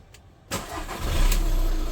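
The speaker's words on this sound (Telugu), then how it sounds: "ఒకసారి కార్ ఇంజన్ కూడా స్టార్ట్ చేద్దామండి." A 2017 Skoda Rapid diesel car is started close by: a short starter whir, then the engine catches and settles into a steady, low diesel idle.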